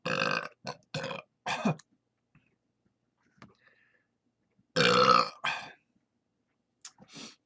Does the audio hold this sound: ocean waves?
no